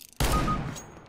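A single loud gunshot from the video game Counter-Strike: Global Offensive, with a sharp crack that rings out and decays over about a second, heard alone.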